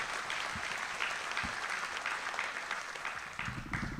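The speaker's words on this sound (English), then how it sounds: "let's give them a round of applause for everything they've done for these kids" An audience at an 8th grade promotion ceremony breaks into steady, dense applause that holds throughout, with no voices over it.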